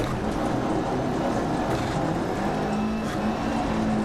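An all-wheel-drive rally car in DiRT Rally 2.0 roars steadily into a fast corner, engine note dipping and climbing as it is flicked sideways, with gravel-like hiss running underneath throughout.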